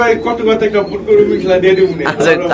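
Pigeons in a market pen coo steadily and overlap one another, loud and close, with someone talking over them.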